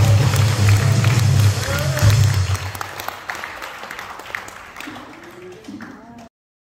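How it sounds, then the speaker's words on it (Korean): Congregation applauding at an Easter worship service, a broad wash of crowd clapping that stays loud at first, then thins and fades under a voice before cutting off abruptly. "잘됐으면 박수로 영광 돌리고 나라 살리도록 합시다"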